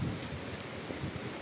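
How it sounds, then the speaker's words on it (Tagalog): Rain falls onto a freshly coated roof in a steady, dense hiss, moderately loud and unbroken, with no voices. "Grabe, nag-uulan naman."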